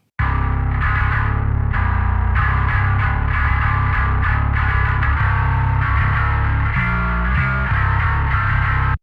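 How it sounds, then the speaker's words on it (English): A heavily distorted bass guitar plays a gritty, driving riff on its own, loud and thick with buzzing overdrive and a touch of chorus. "The bass sounds like this."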